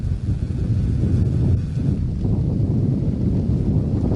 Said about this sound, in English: I was trying to hold the camera with a tree blocking the wind hitting it